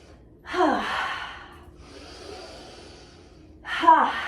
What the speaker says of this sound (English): Maybe a couple of Qigong breaths. Inhale.